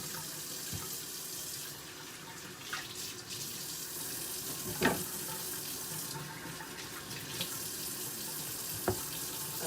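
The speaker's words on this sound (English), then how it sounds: "Now I'm just going to rinse them all off." Kitchen tap running steadily as cut vegetables are rinsed in the sink for soup, a constant soft hiss of water with occasional small knocks and clatters, fairly quiet and close.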